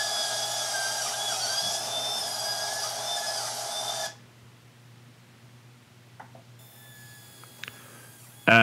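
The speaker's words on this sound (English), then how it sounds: "I was trying to see if I could do larger chunks using this kind of multi-tool that I had laying around" An oscillating multi-tool cuts into a wake surf board, a high buzzing whine running steadily for about four seconds before stopping, followed by quiet handling noises and a brief restart at the end.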